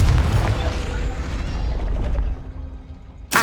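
A Confringo blasting curse in Hogwarts Legacy erupts as a loud, booming explosion with a broad rumbling roar that slowly decays over a few seconds, ending with a sharp short burst.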